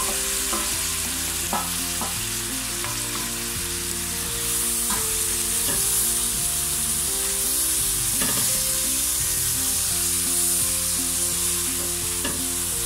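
Tomatoes sauté in a pan over ginger, garlic, curry leaves and onion for a crab roast, hissing in a steady sizzle with occasional stirring clinks, under continuous background music.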